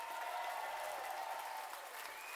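A live concert audience at the Lowry theatre applauds the drummer of a comedy band, sustained even clapping at steady volume without any talk over it.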